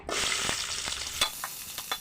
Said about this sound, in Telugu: దొండకాయ వక్కలు వేయించుకోవాలి